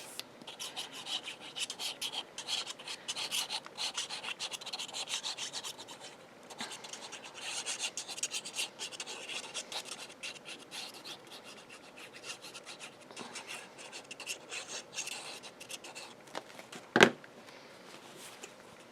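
A paper page of a pocket-page rolling spine craft album is burnished down by hand, a steady dry rubbing and rasping that runs throughout at close range, with one sharp brief knock near the end.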